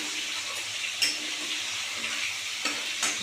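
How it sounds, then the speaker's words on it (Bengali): A whole egg sizzling in a pan at home, producing a dense, even frying hiss with a few brief crackling pops, close and steady, no talking. "এবার ডিমটা ভাজবো"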